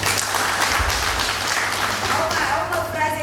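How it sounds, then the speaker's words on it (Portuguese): Applause from a religious gathering fills the room, a close, dense burst of clapping with voices audible beneath it. "Uma salva de palmas."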